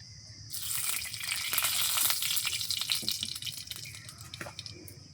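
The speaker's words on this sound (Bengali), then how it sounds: "বন্ধুরা আমার কড়াই গরম হয়ে গেছে, পাট শাক ভাজা করবো, তিতো শাক। প্রথমে তেল দিয়ে দিব," Oil heats in a hot wok before jute greens go in to fry, giving a steady hiss and crackle with scattered drips and pops; nobody speaks.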